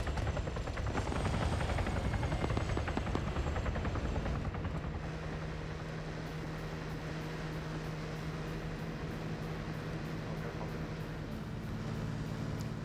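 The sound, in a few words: helicopter in video game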